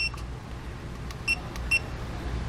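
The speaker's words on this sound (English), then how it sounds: "Hold down set till it beeps." Two short, high electronic beeps from a small RV tire pressure monitor, spaced about half a second apart, over a low steady background hum.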